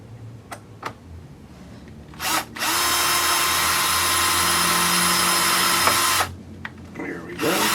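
A power screwdriver whirs briefly, then runs steadily for about four seconds as it drives screws during the build of an Axial Yeti XL RC truck, followed by short clicks and handling noises close by.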